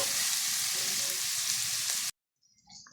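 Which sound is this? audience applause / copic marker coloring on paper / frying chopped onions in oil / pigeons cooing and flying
frying chopped onions in oil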